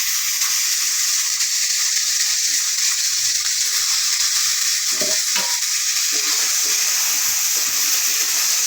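Chopped ripe tomatoes and slit green chillies hit a hot pan for papad curry, giving a loud, steady hissing sizzle throughout, with a few faint clinks of stirring partway through and no voices.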